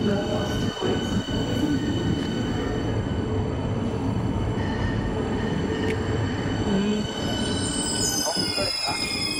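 A train rolls past with a loud, sustained rumble of wheels on rail and a high metallic squeal near the end, heard close by for the whole stretch without any talking.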